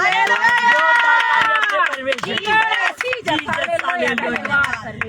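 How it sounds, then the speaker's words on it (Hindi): Loud, rhythmic clapping from a congregation praising God during a live Christian prayer service, running steadily beneath a strong singing or speaking voice. "जोरदार ताली अपने परमेश्वर"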